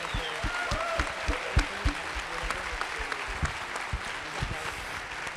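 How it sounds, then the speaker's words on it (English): Audience applause for a panel at a public talk, a steady spatter of clapping filling the room, moderately close with a voice rising over it now and then. "Let's give them all a round of applause."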